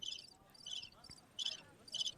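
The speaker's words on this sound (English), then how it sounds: "You hearing the crickets?" Crickets chirp in short, high, shimmering trills at a steady pace, a few bursts spaced about half a second apart, faint and alone in a quiet night.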